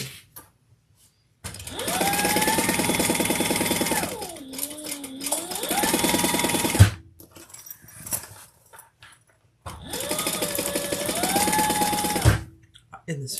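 A sewing machine stitches half-inch seams on an outdoor seat cushion in two long, loud runs, its motor whirring steadily and briefly slowing mid-seam, with a pause and faint background voices between runs.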